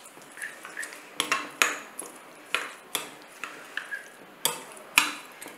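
Salt stirred into yogurt for thayir pachadi with a spoon in a bowl, producing a regular series of light clinks and taps against the sides, close and clear with no talking.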